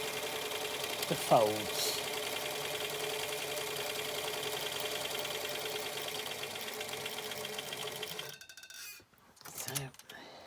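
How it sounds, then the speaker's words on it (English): A sewing machine stitches across a fabric face covering, a steady close mechanical whirr that runs for about eight seconds before stopping, with a brief word spoken early on and some handling noise after. "I'm just going to sew right across"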